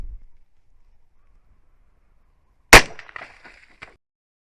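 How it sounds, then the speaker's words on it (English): One sharp, loud gunshot from a .357 Sig pistol firing a Buffalo Bore 125-grain FMJ round into a simulated bone barrier and water jugs outdoors, followed by brief clattering and splashing debris and a small late knock, after near silence. "we're gonna step back and take another shot"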